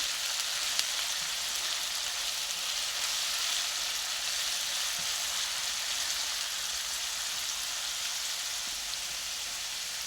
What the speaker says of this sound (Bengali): আদা রসুন বাটাটা দিয়ে একটু সামান্য ভেজে নিচ্ছি